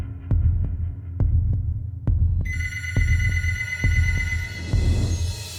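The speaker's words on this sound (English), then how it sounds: "Suddenly, the phone rang, echoing in the apartment" A telephone starts ringing partway through with a bright, sustained electronic ring, over a steady low throbbing pulse like a heartbeat that thumps on regularly underneath.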